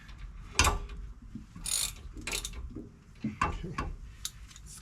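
Torque wrench tightening the rear axle of a Land Rover Discovery 2, several close sharp ratcheting clicks and metallic clacks in short irregular bursts.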